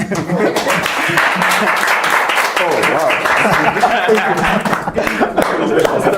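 Audience applause and clapping at a talk on Kenyan media and propaganda, dense and steady throughout, with people talking and exclaiming over it.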